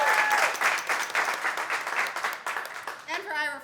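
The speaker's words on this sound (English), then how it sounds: "We can get a round of applause for Merfs Condiments for taking the time to be our guest." Audience applause for Merfs Condiments, a condiment business guest at a Capital One Cafe entrepreneur event, a dense steady burst of many hands clapping close by, with a voice cutting in briefly at the end.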